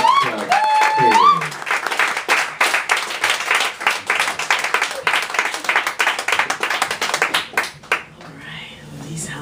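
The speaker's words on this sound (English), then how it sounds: "Clap until she gets up here." Audience at a spoken-word poetry event clapping as a poet walks up to the mic, a dense burst of hand claps that thins into scattered, uneven claps, with a voice briefly sounding at the start.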